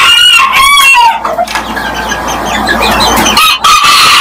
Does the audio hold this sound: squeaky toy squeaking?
no